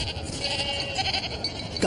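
Goats bleat in a short run of wavering cries, close and fairly loud over steady background noise, with no talking.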